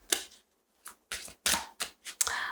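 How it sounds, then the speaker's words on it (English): A deck of tarot cards is shuffled up close in short, crisp bursts of riffling and flicking, separated by brief pauses, with no talking. "I was shuffling the cards to the Judgment."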